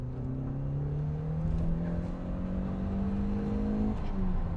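A Lotus Esprit S3 with a normally aspirated 2.2 litre engine accelerating hard, its engine note climbing steadily in pitch as it revs, then briefly dropping at a gear change before rising again, heard from inside the car.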